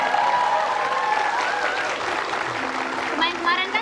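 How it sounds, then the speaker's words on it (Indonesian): A crowd claps steadily for a few seconds, a dense wash of applause with a bit of voice mixed in. "Ya tepuk tangan"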